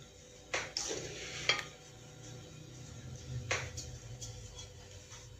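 Semolina being slowly roasted in a pan over a very low flame, with a faint steady sizzle, occasional scrapes and clinks of a stirring spoon against the metal at close range.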